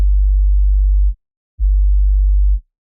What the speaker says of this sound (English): Sub bass with distortion.